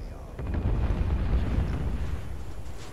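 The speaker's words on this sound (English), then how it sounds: "friendly just got cluster bombed" Cluster bombs burst in a military combat game set in a Pacific campaign, a deep, continuous rumbling roar of overlapping distant blasts with wind-like noise, and voices faintly present.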